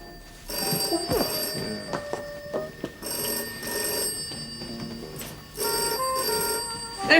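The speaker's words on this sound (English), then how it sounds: "The telephone, it's ringing." An old-style telephone bell rings in repeated bursts with short pauses between them, loud and metallic against a faint background.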